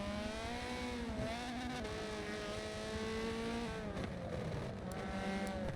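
Race cars lapping the Nürburgring GP circuit in a racing game, their engines droning steadily with shifting pitch as several cars run close together, loud and continuous throughout.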